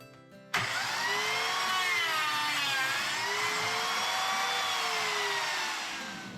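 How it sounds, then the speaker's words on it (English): A biscuit joiner spins up and whines steadily as it plunges slots into wooden boards for a monitor shelf, starting abruptly after a brief click and holding a loud, close, wavering whir before easing off slightly at the end. "I should be able to make a couple of biscuit joints"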